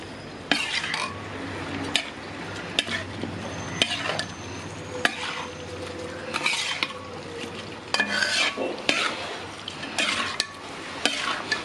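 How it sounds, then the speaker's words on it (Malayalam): Chicken biryani ingredients being stirred and mixed together in a pan, heard as repeated scraping strokes of a spoon against the metal over a low sizzle, close and fairly loud, recurring every second or two without talking. "ഇനി ഇതെല്ലാം കൂടെ നന്നായിട്ട് അങ്ങോട്ട് മിക്സ് ചെയ്ത് കൊടുക്കാം."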